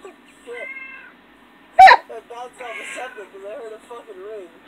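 A house cat named Sammy meows in short drawn-out calls near the listener, alongside a sharp knock and a human voice that sounds partly like a scream, all in a quiet room.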